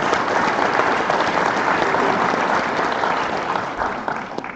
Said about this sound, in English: Give yourself a round of applause for all the work you did in the last